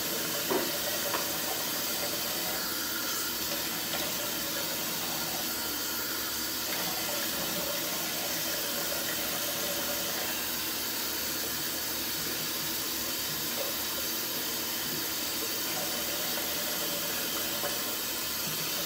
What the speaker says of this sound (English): Rinse off the brush.